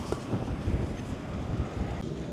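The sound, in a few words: strong cold winter wind outdoors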